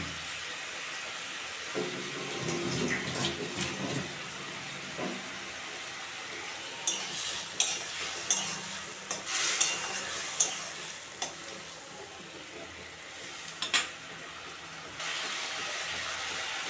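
Spices being sautéed and stirred in a pan for a Bengali fish curry of pangas and tengra with green banana, a soft steady sizzle with scraping stir strokes and occasional clinks, close and moderate.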